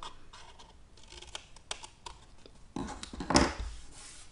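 Scissors snip through cardstock for a Stampin' Up turtle gift box, a series of light clicks and scratches up close, ending in a louder, sharper cut near the finish.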